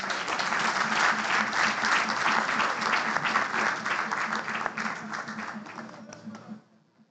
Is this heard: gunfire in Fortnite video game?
no